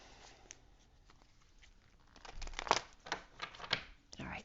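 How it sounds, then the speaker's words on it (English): Tarot cards being shuffled, a quiet papery riffle that swells into a burst of crisp flutters and snaps near the microphone, with no voices. "One more shuffle, you guys."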